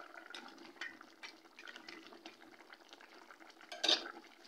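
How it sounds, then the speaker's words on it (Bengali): Fried lentil dumplings (bori) dropped and stirred into a simmering rohu fish curry with radish, beans and potato, giving soft wet stirring and light clinks, then a brief louder splash and clatter near the end. "এবার আমি এর মধ্যে বড়ি যে ভেজে রেখেছিলাম সেইগুলো দিয়ে দিচ্ছি।"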